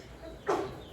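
A brief, muffled sneeze bursts out once over a steady room hiss, short and moderately loud.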